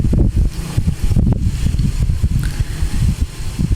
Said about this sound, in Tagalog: Narinig niyo yung dagundong ng hangin mga langga